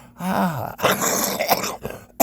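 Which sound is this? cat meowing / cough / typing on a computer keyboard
cough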